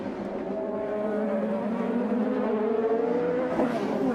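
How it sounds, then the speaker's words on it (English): An IndyCar race car engine on track during a 2015 race gives a loud, sustained high-pitched whine, holding steady and rising slightly as the car drives past the curbs. "Hopping the curb is Bourdais."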